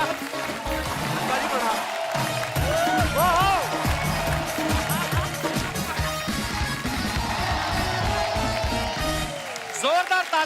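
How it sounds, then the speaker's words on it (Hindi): Studio audience at a Kapil Sharma Show comedy taping applauding steadily and loudly for about ten seconds, a dense broad wash of clapping with cheers and voices mixed through it. "जोरदार तालियां हो जाए अनुपम सर के लिए"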